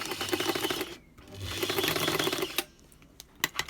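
A sewing machine stitches the seam allowance of a skirt, running in steady rapid bursts with a short pause between runs, fairly quiet and close, followed by a few soft clicks.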